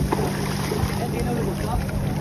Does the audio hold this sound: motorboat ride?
yes